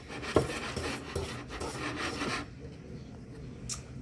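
Mascarpone is stirred into a mousse for tiramisu, with scraping, rasping strokes of a utensil against the bowl that come in an uneven rhythm, close and moderately loud, then fade quieter.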